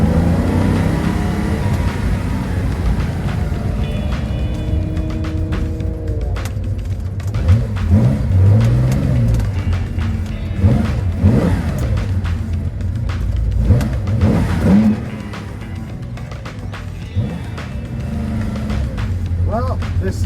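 A 1965 Porsche 904 GTS drives on a frigid winter day, its engine rumbling and revving up and down in a steady, loud drone from inside or close by, with the note rising and falling.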